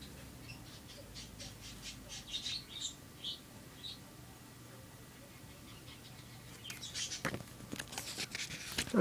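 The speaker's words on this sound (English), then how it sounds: "I'm sorry if you could hear those birds, they're pretty loud." Small birds chirp and tweet in short, scattered bursts, fairly close, over a quiet outdoor background, growing busier toward the end.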